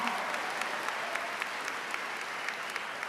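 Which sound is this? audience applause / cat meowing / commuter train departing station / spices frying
audience applause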